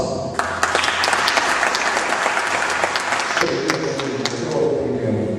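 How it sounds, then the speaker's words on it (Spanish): An audience at a book presentation bursts into loud, close applause for the author's book, a dense burst of clapping that thins slightly toward the end with a faint voice beneath. "yo pido un aplauso por el esfuerzo y un aplauso por el libro que acaba de hacer"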